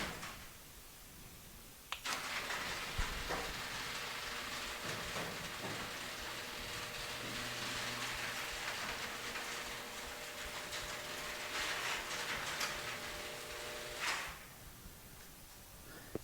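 Garage door opening on newly fitted track wheels, a steady rolling rumble with faint rattles lasting about twelve seconds, quiet and smooth, starting and stopping with soft clunks.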